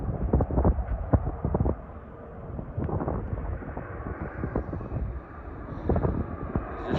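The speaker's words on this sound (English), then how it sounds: "And here's the plane coming in." A low-flying airplane on approach to a runway near Myrtle Beach State Park Campground passes as a loud, rumbling roar, buffeted by wind noise and swelling and fading throughout.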